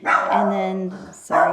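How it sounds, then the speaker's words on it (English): A pet dog barks in a home, a couple of sharp close barks with a whimpering tone, loud and overlapping a person who is speaking. "that's my dog."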